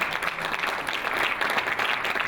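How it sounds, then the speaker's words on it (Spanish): An audience at a congress gives panelists a steady round of applause, many hands clapping continuously and fairly loud throughout the short stretch. "a quien les vuelvo a pedir si son tan amables de brindarles un fuerte aplauso para entregárselos"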